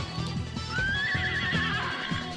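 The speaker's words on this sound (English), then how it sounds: "Horse noise." A horse in a video game neighs with a long rising whinny over steady hoofbeats and a busy background of game sounds.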